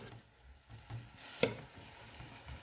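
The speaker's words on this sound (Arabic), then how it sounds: "كمان بقليها مع الفليفلة والثوم والبصل" Sauce frying in a pan with peppers, garlic and onion, giving a soft steady sizzle with faint stirring scrapes and one brief sharp clink near the middle.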